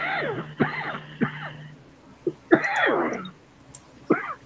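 A man coughs in several harsh, hacking bursts, some doubled, separated by short pauses, close and fairly loud with no talking.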